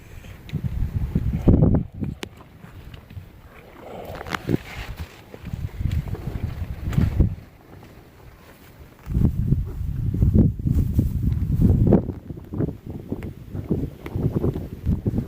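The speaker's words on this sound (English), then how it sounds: "It's been really windy since we've been up here" Gusty wind buffeting the microphone at a tent stove field test, rumbling in low surges that rise and ease, with a quieter lull midway.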